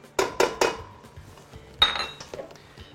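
A utensil stirs flour into boiling choux pastry mixture in a pan for a Saint-Honoré, heard as a few sharp metallic clinks and scrapes against the pan. The strikes come in short bursts with quiet gaps between them.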